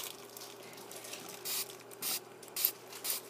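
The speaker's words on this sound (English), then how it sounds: "Spray all around it." A spray bottle of plain water gives several short hissing spritzes, about five bursts spaced roughly half a second apart, close and fairly quiet, with no talking.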